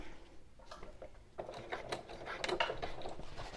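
A sewing machine stitches across waterproof canvas. A quiet mechanical whir and rapid clatter pick up partway through and then keep going steadily, close and moderately loud.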